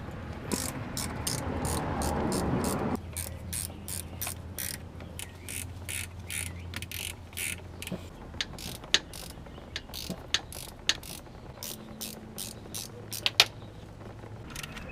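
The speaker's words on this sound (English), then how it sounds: "So I have to remove all this bolt here." A hand ratchet loosens bolts on a 2004-2011 Chevrolet HHR or Cobalt during a transmission repair, making quick runs of sharp clicks in repeated bursts over a low steady hum, close and moderately loud.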